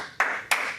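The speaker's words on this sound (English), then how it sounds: "heard our guys just clapping, to our left" Two sharp, separate claps, close and loud, spaced about a third of a second apart, from people reacting at a virtual NFL mock draft.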